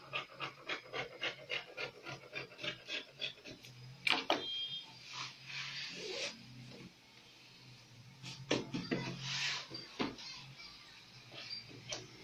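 Scissors cutting through fabric for a skirt, a quick series of crisp snips followed by a pause and a few more scattered cuts and rustles, close and fairly quiet.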